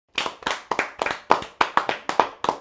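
A classroom of students clap together in an Odia lesson, a quick run of about a dozen close, loud, slightly ragged claps in steady rhythm.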